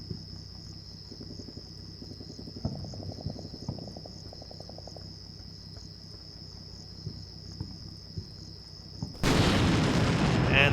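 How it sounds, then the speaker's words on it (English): An artillery strike slams into a BMP armoured vehicle in a military training video game, a sudden loud broadband blast near the end that follows a long stretch of steady cricket-like insect chirping and faint distant thumps. "direct an artillery strike through what the UAV is spotting"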